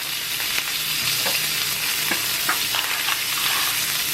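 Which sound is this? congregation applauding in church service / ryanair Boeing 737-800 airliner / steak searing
steak searing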